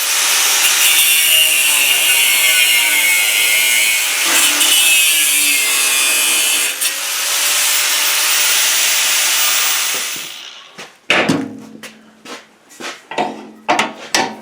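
Continuous loud power-tool grinding and sawing while the front of a steel winch mount is cut off, a sustained harsh rasp for about ten seconds, then it stops and a series of metallic clanks and knocks follows.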